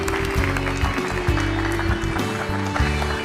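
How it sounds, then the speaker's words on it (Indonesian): An audience applauds Najwa Shihab, Indonesian presenter, at a talk-show taping: dense, sustained clapping with crowd noise, loud and continuous, mixed with background music tones. "Beri tepuk tangan paling meriah untuk Najwa Shihab."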